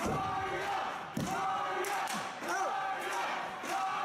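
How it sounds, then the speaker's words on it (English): Wrestling arena crowd chanting "Mario" in support of a superstar during a match, a loud sustained roar of many voices rising and falling in a rhythmic chant, with occasional thuds from the ring. "Crowd starts a Mario chant here, trying to get behind the superstar."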